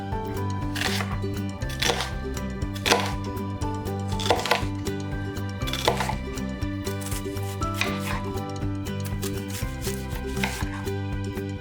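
A knife chops an onion on a cutting board in steady, rapid, close-up strokes that continue throughout, with no talking.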